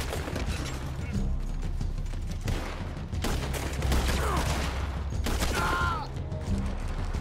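Rapid bursts of gunfire from a video game, with clattering weapon mechanisms, run continuously as steady background noise.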